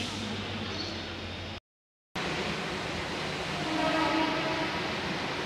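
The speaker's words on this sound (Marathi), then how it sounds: "आता जस्ट मी ट्रेनमध्ये बसलेली आहे. ठाणा पनवेल ट्रेन आहे" A Thane–Panvel local train rumbles steadily from inside the carriage, a broad continuous roar with a brief dropout partway through and no talking.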